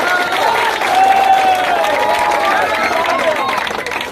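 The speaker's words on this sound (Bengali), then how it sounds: "প্রথমে দর্শকের জন্য ঘুরে একটা করতালি" A crowd at a football tournament closing and prize ceremony applauds, dense steady clapping from many hands spread wide and loud throughout, with faint voices mixed in.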